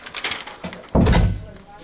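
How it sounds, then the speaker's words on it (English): A door swings shut in a municipal meeting room with one dull thud partway through, heard close among people's talk. "Let me close the door"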